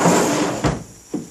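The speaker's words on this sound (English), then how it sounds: "you can see that my drawers go in" Wooden drawers sliding into a homemade camper box in the bed of a 1999 Toyota Tacoma pickup, a rough wooden scrape followed by two short knocks as they seat home, close and fairly loud.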